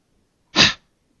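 A single harsh, breathy throat-clearing rasp imitates the pharyngeal fricative H, one short burst alone in quiet.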